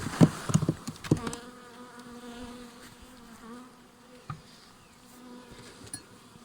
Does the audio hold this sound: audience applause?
no